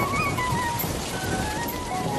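Steady rain falls in a cartoon village scene, a dense, even hiss with no pauses, and a faint low rumble of thunder sits under the downpour.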